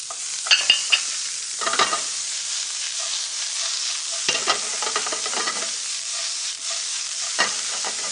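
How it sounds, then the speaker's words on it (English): Onions frying with dal in a pan, a steady hiss of sizzling broken by several bursts of stirring and scraping as the spoon moves the mix around. "I'm going to cook those onions"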